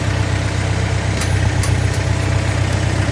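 An International Harvester 574 gasoline tractor with electronic ignition climbs a driveway in high gear, its engine a steady, close, low rumble that holds even throughout, with no talk.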